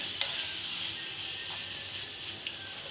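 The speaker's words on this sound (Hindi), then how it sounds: "चनों को हम अच्छी तरीके से मिक्स करेंगे।" Chickpeas being mixed in a pan for an egg and chickpea curry, a soft even sizzle with a few faint light scrapes of the spoon, quiet and without any voice.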